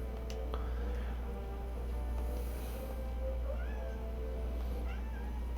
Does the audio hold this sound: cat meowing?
yes